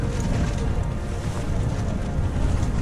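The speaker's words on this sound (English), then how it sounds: "You can hear the wind." Wind blowing hard on Mount Kilimanjaro, a loud continuous roar and buffeting that fills the whole moment, with no voices.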